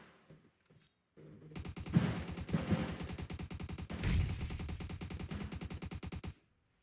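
Automatic gunfire from PUBG Mobile, fired while prone, comes as rapid, sharp, evenly spaced shots in long sustained bursts, loud and close, ending abruptly with no talking.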